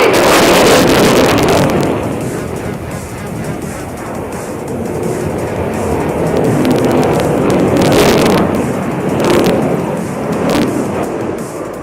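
An Indian Air Force fighter jet flying a tight 200 m glide at an Air Force Day display, a loud, broad roaring rush that swells and fades over about twelve seconds, with some sharp crackles.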